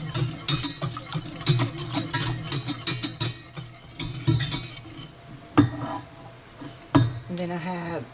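A spoon stirs a mixture with vanilla in a bowl, giving rapid clinking scrapes against the sides in bursts, with a voice talking over parts of it.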